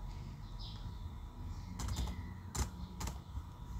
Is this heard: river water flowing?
no